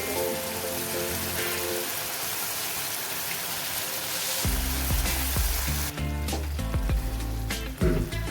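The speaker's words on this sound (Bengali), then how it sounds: "ভালোভাবে ফুটে গেছে ঝোলটা।" Paneer butter masala gravy bubbling and simmering in a pan, a steady crackling boil that thickens and grows louder as paneer pieces drop in, with a few soft knocks near the end.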